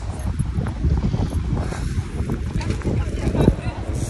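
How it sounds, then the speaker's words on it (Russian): Wind rising on a cold evening on a Warsaw street, a constant low rumbling gust noise across the microphone, with someone talking over it the whole time. "ветер поднялся, холодно так."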